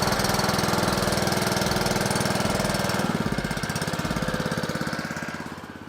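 A farm tank mixer's engine idles steadily and loud and close, a rapid, even low chugging thump that shifts and slightly thins after a few seconds, with no voices over it.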